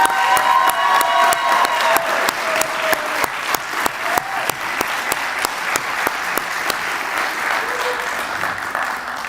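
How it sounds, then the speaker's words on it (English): A crowd at a corrections academy graduation ceremony applauds steadily with dense, continuous clapping that fades slightly toward the end, with some faint voices mixed in early on. "let's give our graduates another round of applause"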